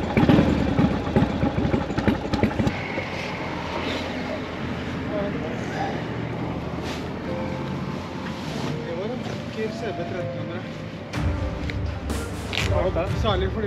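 A Harley-Davidson motorcycle engine catches on the first try and settles into a steady, loud idle close by, with people talking over the running engine.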